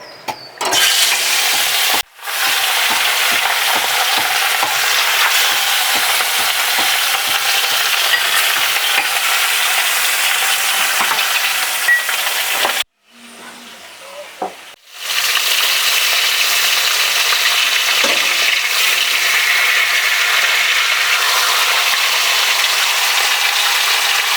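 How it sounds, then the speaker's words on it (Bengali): Tangra fish frying in hot oil, a loud continuous sizzle with short breaks around two seconds and again near thirteen to fifteen seconds, otherwise unbroken throughout. "আমি এই মাছটা ভেজে নেবো"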